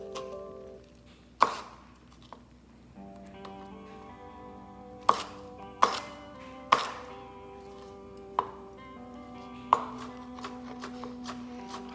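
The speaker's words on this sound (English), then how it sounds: "Jalapenos I want to chop a little smaller" Knife chopping jalapeños on a cutting board, sharp distinct chops at irregular intervals, about eight strikes, close and clear with quiet pauses between, no talk.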